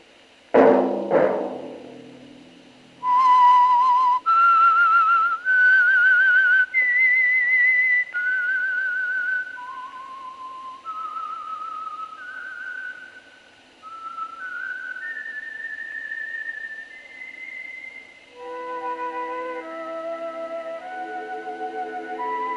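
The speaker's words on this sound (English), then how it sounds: "Let that whistle be your signal" A single clear whistled tune rises and falls note by note after a brief low thump, sustained and prominent against near silence.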